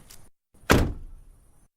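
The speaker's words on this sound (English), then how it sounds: "I heard their car door open and close." A car door shuts with a close, heavy thunk that follows a faint latch click, leaving a short fading tail in an otherwise quiet, animated home-alone horror scene.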